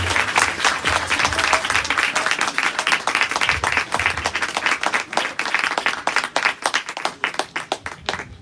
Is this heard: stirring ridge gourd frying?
no